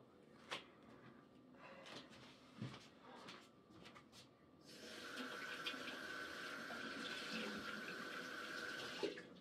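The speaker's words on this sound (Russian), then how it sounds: "Воду включает холодную." Cold water gushes steadily from a kitchen tap into the sink, starting partway through after some quieter kitchen clatter and continuing as a close, even hiss to the end.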